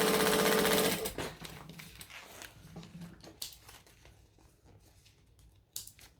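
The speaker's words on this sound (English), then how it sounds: "what I want to do is I'm going to top stitch each of the folds." A sewing machine top stitches the folds of a fabric garment at an eighth of an inch, a loud rapid needle whir that runs for about a second, followed by softer handling clicks and fabric rustles.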